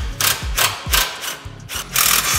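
A hand wrench ratchets on the hold-down nuts of a Volvo car battery, producing repeated close, gritty clicking strokes in a steady rhythm.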